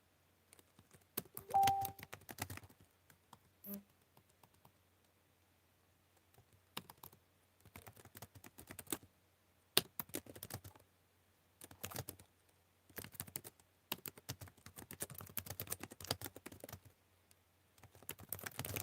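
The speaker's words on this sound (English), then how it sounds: "You sound so angry at your keyboard." Bursts of fast, heavy typing on a computer keyboard clack in clusters separated by silent gaps, close and forceful, with no talk over them.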